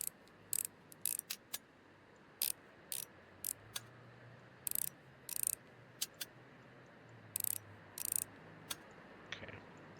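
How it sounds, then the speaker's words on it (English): Screws being backed out of an early-2000s joystick casing, a quiet run of short dry clicks and ratcheting ticks in uneven bursts, close up with no voices. "Alright, so let's take these screws out first."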